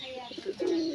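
Pet pigeons cooing close by, a short soft coo that swells into a longer throaty call within about a second.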